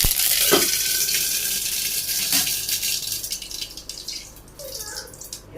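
Mustard seeds hitting hot oil in a wok give a steady, close hiss with sharp crackles and pops, plus a couple of louder clacks near the start, fading somewhat toward the end.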